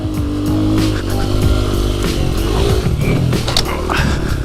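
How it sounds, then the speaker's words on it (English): A pit bike engine buzzes loudly and revs up as the small dirt bike launches off a homemade jump, its droning whine shifting in pitch through the takeoff and landing. "Let's go ahead and send this off the pit bike jump we made."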